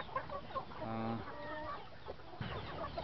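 Texas gamefowl chickens at a farm, clucking in short bursts with a drawn-out crowing call in the middle, heard fairly faintly and close by.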